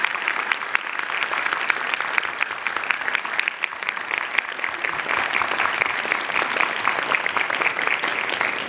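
Sustained, vigorous applause from a church congregation during a Sunday Mass, many hands clapping in a thick, even wash that stays loud for nearly nine seconds.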